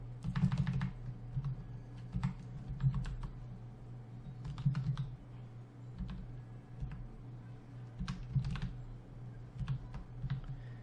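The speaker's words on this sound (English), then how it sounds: "and to do that you just type sudo" Someone types a command on a computer keyboard for a Raspberry Pi, producing bursts of close, crisp key clicks in short irregular runs over a steady low electrical hum.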